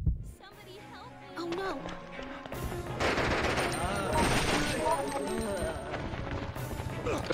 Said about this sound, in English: I should use the shotgun!